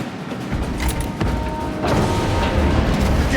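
A frag grenade blast and gunfire in the Warhammer 40K Space Marine video game, a loud rumbling boom rolling into sustained battle noise with clanking mechanisms, no voices.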